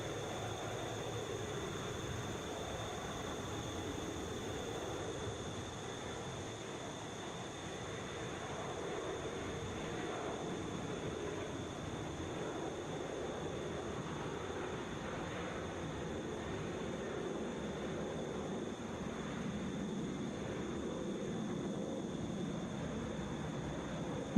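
A Delta Boeing 737 at Atlanta airport makes a steady, distant jet rumble that holds evenly throughout without clear peaks, with no talking.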